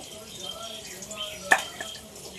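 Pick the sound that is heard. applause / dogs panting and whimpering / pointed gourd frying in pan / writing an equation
pointed gourd frying in pan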